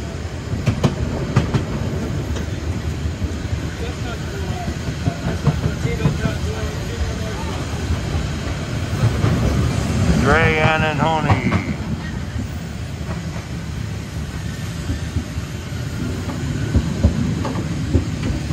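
A 2-10-2T narrow-gauge steam train on the Harz line near Wernigerode, Germany, rolls along with a steady rumble and clickety-clack of wheels, wind buffeting the microphone, and a brief squealing screech partway through.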